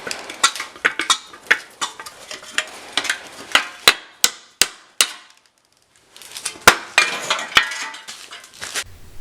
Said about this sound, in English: A hammer did the trick and eventually it all came out.